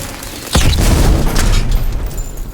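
A single deep thermite explosion in the video game Call of Duty: WWII booms out suddenly and its rumble lingers for a couple of seconds, with no voices.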